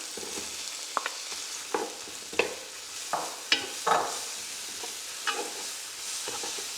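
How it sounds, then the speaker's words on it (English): Chopped leek fries with garlic in a pan, making a soft, steady sizzle broken by irregular utensil scrapes and stirring clatters, close up, with no one speaking. "We're just giving it a little bit of a fry, literally a minute, 2 minutes, just till it starts going glossy and going a bit soft"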